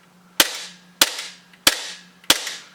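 A Project UAC Glock replica pistol dry-fires four times in quick, evenly spaced sharp snaps, close and crisp with short decays and no talking.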